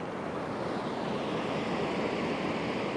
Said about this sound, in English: you can hear water down there